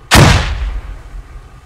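A grenade explodes in the military shooter game Squad, one loud, close blast with a sharp attack that fades into a long low rumble, nothing else heard.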